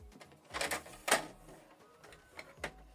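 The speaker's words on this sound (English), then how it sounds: "Switch the printer on from this button." A Canon Pixma MG2556S inkjet printer powering on, giving a few soft mechanical clicks and whirring movements with brief louder clunks, fairly quiet and close, with no talking.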